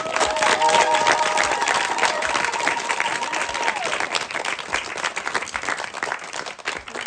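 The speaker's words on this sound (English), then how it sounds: "Let's give a big round of applause." Loud, steady applause from a large festival crowd at an ashram devotional celebration, sustained clapping filling the space for several seconds, with some raised voices mixed in before it gradually thins toward the end.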